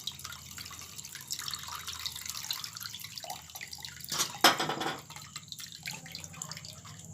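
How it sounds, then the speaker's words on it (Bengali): Cold water poured over freshly boiled potatoes in a kitchen, with a steady close splash and trickle that swells into a brief louder gush near the middle, then eases back to a light running flow. "এরপর এখানে ঠান্ডা জল দিয়ে দিচ্ছি।"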